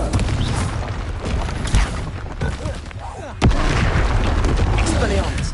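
Fiery blast from the Confringo spell in Hogwarts Legacy, two sharp booms rising out of constant game noise and a spoken voice, the second louder and sustained.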